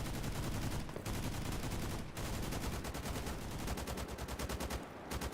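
Rapid automatic gunfire from a Monolith fighter in the shooter game STALKER GAMMA, long loud bursts of fast, even shots with only brief pauses between volleys.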